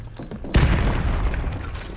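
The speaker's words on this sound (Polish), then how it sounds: "Ej, granat." A grenade explodes in Call of Duty: Modern Warfare Remastered, a sudden loud boom after a quiet moment, followed by a sustained rumbling roar that slowly fades.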